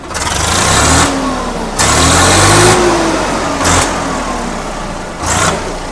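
A Swaraj tractor engine runs close and loud, revved several times in surging bursts that rise and fall between steadier idling stretches.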